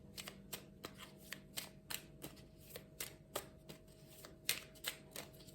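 Tarot cards are shuffled and drawn for a weekly reading: close, dry papery snaps and slides in an irregular, steady rhythm, with no voices over it.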